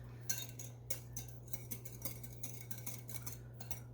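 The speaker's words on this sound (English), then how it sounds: "I'm just going to stir this up." Butterscotch pudding mixture with melting butter stirred in a 2-quart container, a quiet run of light clinking and scraping taps from a utensil against the sides over a low steady hum.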